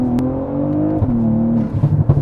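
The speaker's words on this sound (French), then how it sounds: "Oh là là, on a même la dump valve." A stage 2 tuned BMW 340i engine revs and settles with shifting pitch, followed by a few short fluttering puffs of its turbo dump valve releasing.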